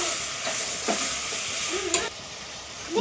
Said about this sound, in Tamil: வதக்க வேண்டியதான்